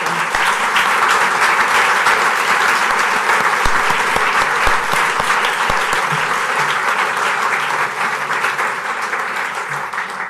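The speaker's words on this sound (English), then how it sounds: "Would you all please give them a round of applause?" An audience at a League of Women Voters candidate forum applauds, a dense, loud and sustained burst of clapping from a roomful of people that holds steady and eases off only slightly near the end.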